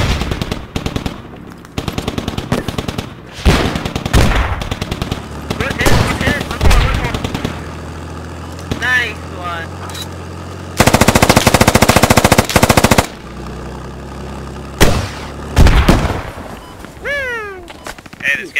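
Machine gun fire in the Squad military shooter rips out in repeated long bursts, one very loud sustained stretch among them, as excited voices shout over the fighting.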